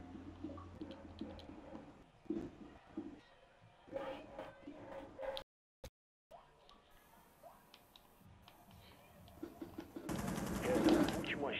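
Gunfire in a video game, bursts of rapid automatic shots and scattered single cracks among clicks and game effects, fairly faint, with players talking over it and a heavier burst near the end.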